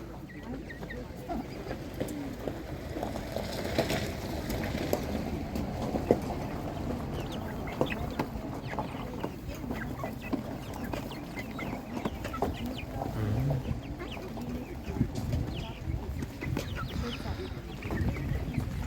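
Chickens, including Spanish and Master Grey breeds, cluck and murmur in a busy crowd at a livestock market, with people talking nearby and market bustle throughout.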